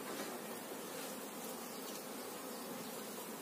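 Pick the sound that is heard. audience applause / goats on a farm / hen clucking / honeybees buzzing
honeybees buzzing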